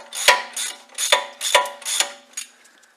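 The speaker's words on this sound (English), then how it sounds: "we're going to get a 10mm socket and just take that little bracket off at the top there" A 10mm socket ratchet clicks in quick steady runs while undoing a small bracket on a Land Rover Discovery 3/4 during a front brake upgrade, close and clear, trailing off at the end.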